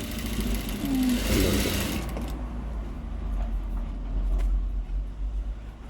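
A sewing machine stitches a sleeve patti, running as a steady mechanical whir that is loud and busy for the first two seconds, then continues as a quieter, lower hum.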